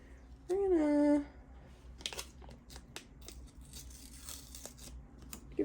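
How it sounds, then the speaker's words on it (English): Paper is torn by hand in a brief, quiet rip near the microphone, following a short voiced sound, then soft crinkling handling noises. "give it a little tear"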